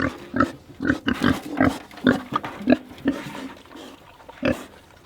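Several agitated pigs on a homestead grunt and squeal close by in rapid, overlapping bursts, loud and continuous with no talk over them.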